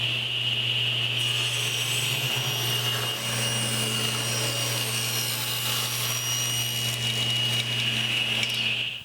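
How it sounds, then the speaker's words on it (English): A table saw rips strips of poplar wood, a steady loud whine with a constant low motor hum running the whole time, no talking. "I'll get started by ripping strips of poplar at 1 inch."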